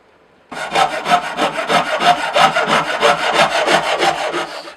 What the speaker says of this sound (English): this Shinto rasp was a great success. It removes a load of material, it's not too difficult to control.